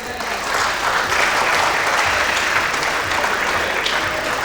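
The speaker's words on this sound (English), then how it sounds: "Round of applause." A conference audience at a UNESCO hydrology anniversary event breaks into steady, dense applause, many hands clapping at once in a hall for several seconds at even volume.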